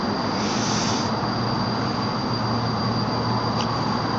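Steady, loud engine drone of a bomber aircraft in Kerbal Space Program, a continuous broadband roar with a constant low hum and a high whine running throughout.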